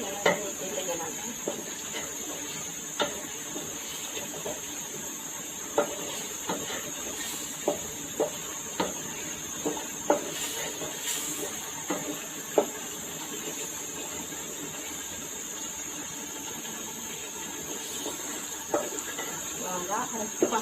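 Hilsa fish cooking with bitter gourd in a pan under a constant hiss of steam and sizzle, with regular sharp taps and scrapes of a spatula stirring, and a voice speaking now and then.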